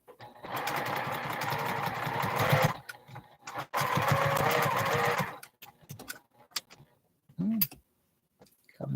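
Sewing machine stitching 4-inch quilt blocks from knit fabric with a quarter-inch seam: two runs of rapid, even stitching chatter a few seconds each, then quieter scattered clicks and handling noises.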